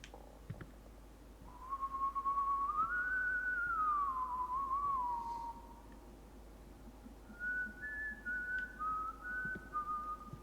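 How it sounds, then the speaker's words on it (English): A drawn-out whistled tune in the horror video game White Day, a rising and falling tone held for several seconds, then a pause and a few shorter whistled notes, clear over a low ambient hum. "I'm hearing a whistling."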